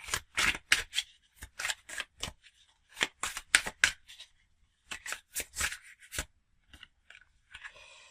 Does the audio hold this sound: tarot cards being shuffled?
yes